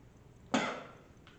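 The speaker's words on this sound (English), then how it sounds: "He coughs again. Harder." A single harsh cough from a man, sudden and fairly loud, trailing off into a quiet room.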